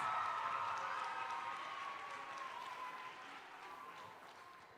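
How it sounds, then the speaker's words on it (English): Crowd applause fills a Spalding Primary School graduation for the class of 2022, a steady wash of clapping that slowly eases over several seconds, with a faint tone and scattered voices underneath. "Give them a round of applause."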